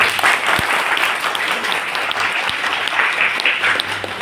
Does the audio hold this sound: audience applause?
yes